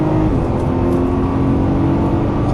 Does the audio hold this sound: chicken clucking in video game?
no